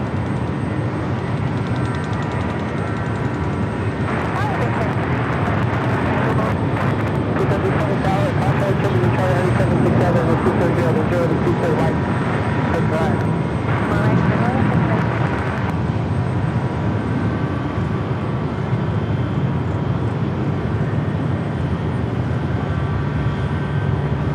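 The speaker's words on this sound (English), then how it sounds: "Sun Country, next takeoff." A Sun Country airliner taking off at Los Angeles International Airport: a steady, broad jet roar that swells through the middle and holds at a loud, even level for the full length.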